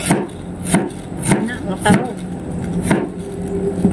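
A knife chops garlic in steady, close, sharp strikes, about one every half second, over a low background hum.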